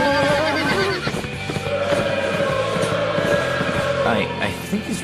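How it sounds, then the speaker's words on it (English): A wild horse whinnies amid the clatter of hooves in a cartoon-style scene, the neigh loud and close over a busy, layered soundtrack. "I think he's riding a wild horse."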